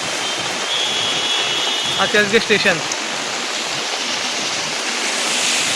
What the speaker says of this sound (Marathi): खूप धमाका पाऊस आहे.